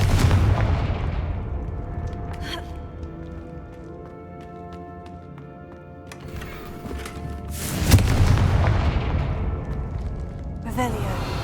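Confringo fire-blast spells exploding in Hogwarts Legacy, a few heavy booming blasts with ringing tonal tails over a constant rumbling game soundscape, with a voice speaking at points.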